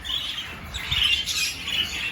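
Birds at Copsewood Aviaries give faint, scratchy squawks and chirps, repeating irregularly against a quiet background.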